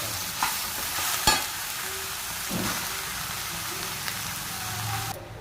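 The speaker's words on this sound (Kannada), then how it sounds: "ಒಗ್ಗರಣೆ ಬೆಂದಿದೆ. ಹಾಕೊಂಡ್ಬಿಡೋಣ ಸೊಪ್ಪು." Leafy greens hit a hot pan of tempering with dried red chillies, giving a steady sizzle and frying crackle with scraping stirs and a few sharp clatters of a spoon against the pan.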